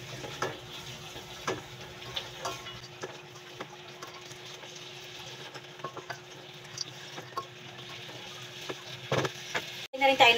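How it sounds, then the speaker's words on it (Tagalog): Sopas being stirred in a pot, a quiet scraping and clinking with soft sizzling underneath, steady for several seconds and ending in a couple of louder knocks near the end. "Halo-haloin lang natin."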